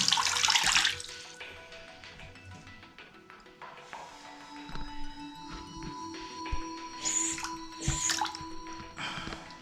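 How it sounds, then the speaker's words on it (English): Water gushes from a single-handle faucet after a gasket replacement, with a steady splashing hiss, starting with a loud sputtering burst and continuing as a running flow into a basin. "Now turn the water back on."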